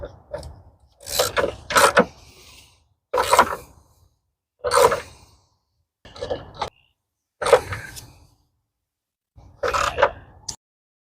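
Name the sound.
wrench tightening 13 mm battery tie-down on 2007 Saturn Vue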